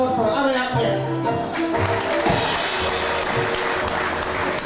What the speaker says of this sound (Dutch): Een hard applaus voor Adriaan Perk.